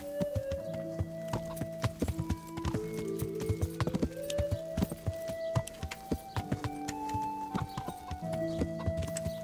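Horse hooves clip-clopping in the medieval role-playing video game Kingdom Come: Deliverance, a steady walking rhythm of hoofbeats over soft background music with no talk.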